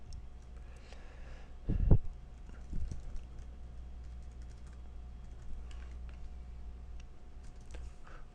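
Typing on a computer keyboard during programming, soft irregular key clicks at close range with a couple of louder thumps, over a quiet hum with no one speaking.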